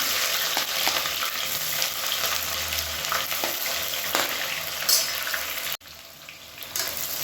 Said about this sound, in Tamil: இப்போ இது எல்லாமே பொரிய ஆரம்பிக்கவும் 200 கிராம் பெரிய வெங்காயம் நீளமாக இருக்குனால சேர்த்துக்கலாம்